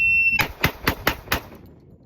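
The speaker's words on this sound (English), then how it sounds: "We have the Springfield 1911 A1 M45 shooting the same 230 grainer." A Springfield 1911 A1 M45 pistol firing 230-grain rounds at an outdoor range lets off five sharp, loud shots in an even, rapid string after a brief electronic range beep, each crack ringing briefly.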